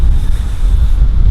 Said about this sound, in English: It's starting to rain a little bit and it's getting well windy up here.